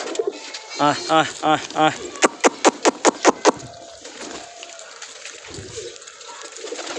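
Red checker pigeons cooing close by in a series of rhythmic coos with a few sharp clicks, while a person makes soft repeated 'ah' sounds that are not an imitation.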